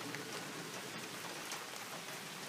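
Rain falling steadily on a homestead, a soft, even hiss of drops pattering on surfaces, continuous and fairly faint with no voices.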